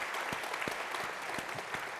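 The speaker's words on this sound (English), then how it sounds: "Another round of applause for them for being with us today." Dense applause from a crowd, steady clapping at moderate volume with a few sharper individual claps standing out.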